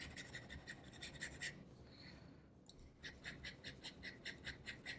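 Fine-nib Platinum Desk Pen fountain pen moving fast over paper: bursts of close, dry, rhythmic scratching, a steady run of strokes, a short pause, then more quick repeated strokes.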